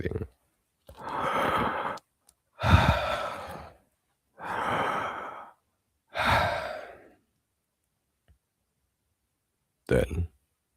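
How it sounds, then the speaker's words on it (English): Loud, deep breaths repeat in slow, heavy bursts of roughly a second each with pauses between, ending in a short sharp intake; close and breathy, no talking. "Just breathing. Loud, deep breathing."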